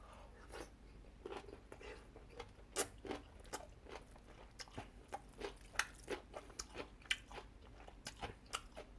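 Someone chews a big piece of kimchi up close: quiet, irregular crunchy bites and wet chewing, repeated over several seconds with no talk.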